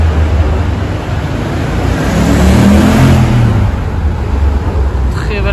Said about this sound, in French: Très belle accélération.